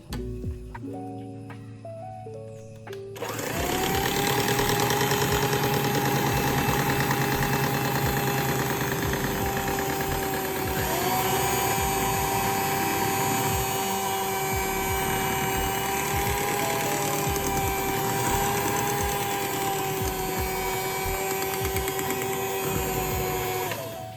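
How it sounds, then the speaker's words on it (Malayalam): A hand mixer whirs steadily at low speed through brownie batter as melted chocolate is poured in, a constant close motor hum running alone for about twenty seconds after a short quieter start. "ചോക്ലേറ്റ് ഒഴിച്ചു കൊടുക്കുന്ന സമയത്ത് ഞാൻ വളരെ ലോ സ്പീഡിലാണ് കേട്ടോ നമ്മുടെ ഹാൻഡ് മിക്സർ ഓടിക്കുന്നത്"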